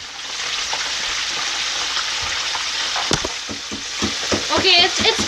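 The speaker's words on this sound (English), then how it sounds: "I'm going to have to deep fry it extra" A giant homemade chicken nugget deep-frying in hot oil gives a steady, fairly close sizzle and hiss, with a few clinks and stirring clatters toward the end.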